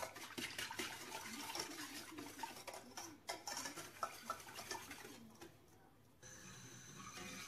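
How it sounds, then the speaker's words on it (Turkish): A spoon stirring a sugary cake sauce in a pot, with soft scraping and clinking strokes at close range and low level, then a quieter stretch and a faint background hum. "Karıştıralım."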